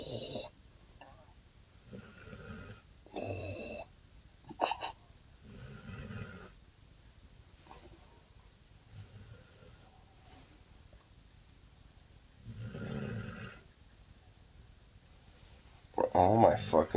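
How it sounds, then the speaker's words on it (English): A dog snores in rhythmic bursts, each breath a raspy, rumbling snort repeating every second or two, fairly close, with a person speaking intermittently between and over the snores. "Are you snoring?"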